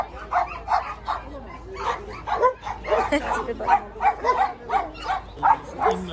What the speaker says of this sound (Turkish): Şu köpeklere bakacağız.